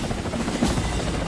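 Helicopter rotor drone from the closing scene of The Crocodile Hunter: Collision Course, a steady, loud, dense whir with no break across the short stretch, with no talk over it.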